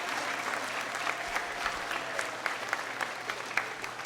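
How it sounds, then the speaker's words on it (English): A crowd at a school moving-up graduation ceremony applauds in a continuous, moderately distant patter, with sharper individual claps popping out above the steady wash. "Clap it up."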